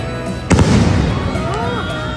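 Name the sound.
Diwali fireworks bursting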